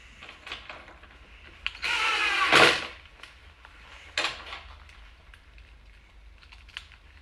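A power drill drives screws into a wooden planner craft table, one loud buzzing burst of about a second followed by a shorter whir, with faint taps and handling noise around them in a quiet room.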